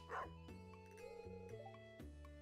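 A dog in the Stardew Valley farming game barks and yips in short game-sound bursts over steady background music, several quick calls spread across the moment.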